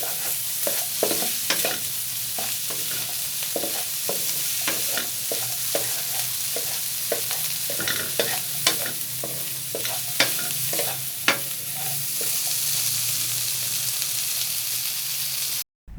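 Anda matar, an egg and peas curry, cooks in a pan with a steady sizzle and fry hiss, broken by repeated clicks and scrapes of a spoon stirring, with no voices heard.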